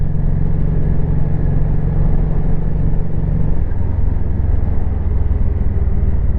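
Honda Shadow Sabre 1100 motorcycle cruising on a highway after repairs with new tires and re-oiled forks, a loud continuous engine rumble with wind roar, the engine note dropping partway through.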